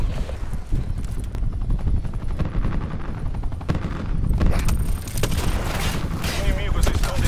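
A helicopter in the Call of Duty Black Ops 4 game thrums as a continuous low rotor rumble, tangled with bursts of gunfire and other battle noise, while a player talks over it.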